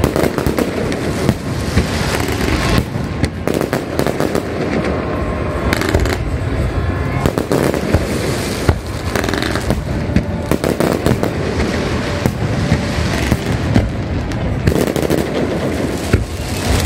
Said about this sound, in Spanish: viviendo automáticamente todos los fuegos artificiales